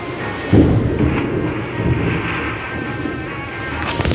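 A low, rolling thunder rumble sounds outdoors, swelling after half a second and lingering as a broad steady roar with some wind noise on the microphone.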